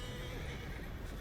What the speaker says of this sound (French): le pauvre cheval